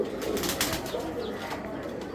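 Pigeon cooing from a loft of Belgian, Dutch, Iraqi and Bangladeshi club pigeons, soft repeated low coos layered over steady background noise, with faint chirps and wing sounds.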